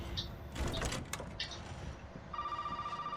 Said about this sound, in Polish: chyba ktoś dzwoni